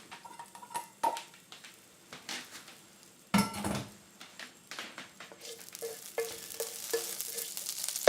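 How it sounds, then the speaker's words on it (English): Noodles drop into a pot of soup with clattering pot and utensil knocks and a loud splashy thump midway, then light stirring and clinks close by, no talking. "Let's get our noodles in the soup."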